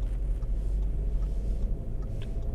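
A 2016 Audi A3 with the base 1.8L engine cruising through a quiet residential neighborhood, heard from inside the cabin as a steady, soft low road and engine rumble with no talk.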